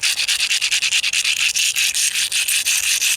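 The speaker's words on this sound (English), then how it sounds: "and grind this by hand." A slate spearhead is ground by hand against an abrasive surface in rapid back-and-forth strokes, each a loud, close, hissing scrape in an even rhythm of roughly four to five strokes per second, with no talking.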